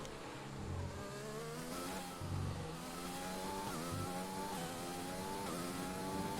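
Formula 1 race car engine in the F1 2020 game at the Japanese Grand Prix, a loud steady high-pitched whine rising through the gears with short drops as the throttle lifts and revs climb again, no voices.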